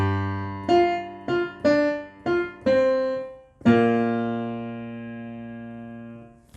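Piano playing the second part of a song, the start of the chorus: six clear notes or chords struck in a steady rhythm, the last held and ringing out slowly, solo and close, no talking.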